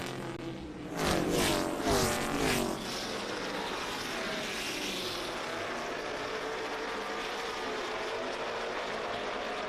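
Race cars in the Grand National Super Series thunder around Caraway Speedway, one car roaring loudly past with a Doppler sweep, then a sustained distant engine drone from the field.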